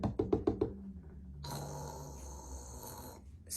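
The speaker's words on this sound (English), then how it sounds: "Mole dashed inside and knocked on Bear's door." Five quick knocks rap on a door in an even rhythm, followed by a loud, drawn-out snore after a short pause.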